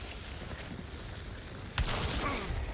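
Gunfire in a zombie shooting video game, a dense spread of shots beneath a sharp loud burst partway through, carrying on with steady crackling afterward.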